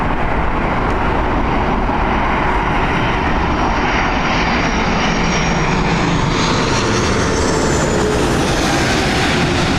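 A Virgin Atlantic Airbus A330ceo jet at London Heathrow gives a loud, steady broadband engine roar that fills the whole stretch, with a slowly shifting whine as it moves past nearby.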